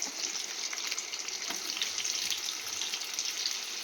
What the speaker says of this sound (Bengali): এখানে পটলগুলো দিয়ে দিচ্ছি তেলটা গরম হয়ে গেছে